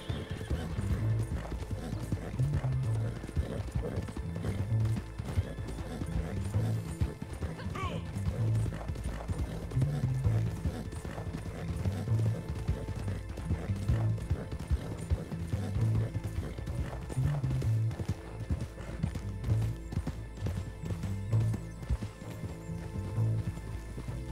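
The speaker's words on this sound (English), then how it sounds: "You can just ride your horse close to it." Horse hooves pound in a steady, repeating galloping rhythm throughout a ride in the game Red Dead Online, with a neigh heard amid constant ambient noise and voices talking over it.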